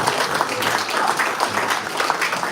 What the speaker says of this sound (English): Guys, I want us to give a right hand clap to this team.